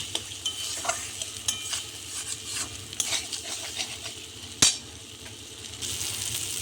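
Quiet sizzle of spice paste frying in oil, punctuated by scraping stirs and a sharp metallic clink of a utensil against the pan.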